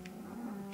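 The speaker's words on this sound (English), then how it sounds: "These crazy cats are howling, they're growling at each other." Cats in the Minecraft video game give a short, faint, drawn-out howling meow, a single soft wavering cry heard alone.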